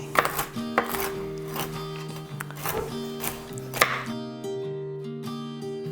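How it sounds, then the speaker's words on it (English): A knife rough-chops walnuts on a board for banana nut bread, giving a handful of sharp, irregular close taps over gentle background music that carries on alone at the end. "I want to get some walnuts toasted for our banana nut bread. I'm just gonna do like a rough chop."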